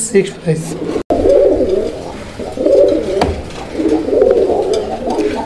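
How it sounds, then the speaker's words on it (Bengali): Golla pigeons coo in low, repeated rounded calls at close range, with someone talking over much of it. "তো দর্শক বন্ধুরা আপনারা কবুতর দেখেন, এটা গোল্লা কবুতর যেরকমটা রবিউল ভাই বলছে।"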